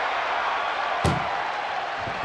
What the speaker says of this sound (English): Trying to at least slam one door shut.